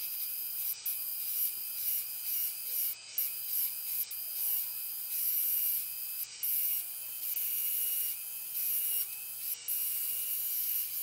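A dental bur polishes and finishes front teeth, giving a continuous high whining and rubbing grind with brief pauses every second or two, close and steady throughout.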